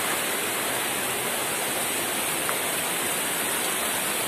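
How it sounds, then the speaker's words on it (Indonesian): A forest waterfall pours in a steady, dense hiss of falling water, constant and fairly near, with no voices. "seperti ini keadaan air terjunnya ya"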